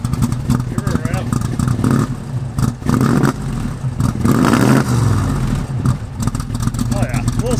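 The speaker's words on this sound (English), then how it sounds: "Give her a rev." An older station wagon engine revved after being revived from long storage, rising and falling in loud bursts with clattering, while people talk excitedly over it.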